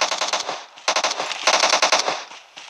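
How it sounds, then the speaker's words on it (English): Rapid automatic gunfire in the battle royale game PUBG, loud and close, fired in several sustained bursts with short gaps between them and no voices over it. "People are shooting at us."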